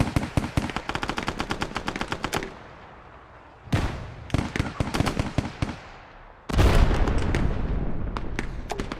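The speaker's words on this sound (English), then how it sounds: "what does our fire support look like? 82 millimeter mortar." Rapid bursts of 82 mm mortar fire support in a video game, loud crackling volleys of blasts in three clusters separated by short quieter gaps, with dense repeated impacts.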